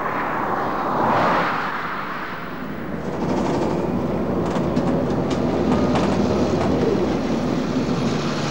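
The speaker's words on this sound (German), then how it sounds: "Die Eisenbahn fährt mittendurch." A train passes through Airolo on the Gotthard railway in the Swiss Alps, a loud broad rumble that swells briefly, dips, then holds as a steady roar with rattling wagon noise.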